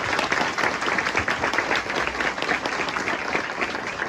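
Dense, steady applause from a congregation at a Sunday Mass fills the whole stretch, loud and continuous with no talking over it.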